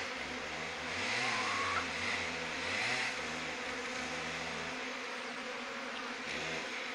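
Honeybees buzz around a hive as they fly back in, a steady close droning hum with a low wavering tone that rises and falls, continuous for several seconds with no talk over it.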